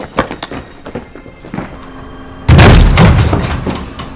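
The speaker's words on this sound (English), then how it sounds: "Please, let's force that door open." A door is forced open in a Nollywood drama: several light knocks and thumps come first, then a heavy, loud crashing bang as it gives way, close by and rumbling out.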